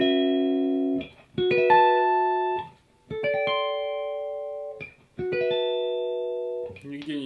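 Electric guitar notes from a bolt-on Westminster Les Paul copy made in Japan around 1974–75, played as a few separate chords or notes that each ring out long and even before the next is struck, clean and close.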